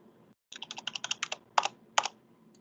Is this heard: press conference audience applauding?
no